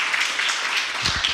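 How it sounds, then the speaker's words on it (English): Applause from a conference audience in a large lecture hall, a steady wash of many hands clapping for a speaker, moderately loud with a few low thumps near the end. "please join me for a round of applause for Regina Braudler"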